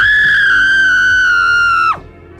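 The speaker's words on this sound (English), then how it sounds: "The most terrifying scream I have ever heard in my life pierced through the silence like a knife." A long, piercing high-pitched scream holds steady at full loudness for about two seconds, then breaks off sharply, leaving a faint low background.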